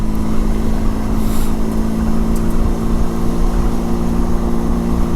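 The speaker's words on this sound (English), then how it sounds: "so you can hear the exhaust note" A Benelli TRK 502X motorcycle's exhaust gives a steady, loud engine drone with a deep, continuous low rumble, close by and constant throughout with no voices.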